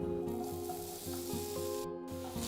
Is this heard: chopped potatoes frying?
yes